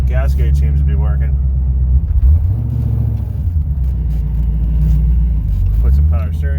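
A C4 Corvette engine idles and runs steadily with a low, continuous rumble throughout, loud and close, while people talk over it.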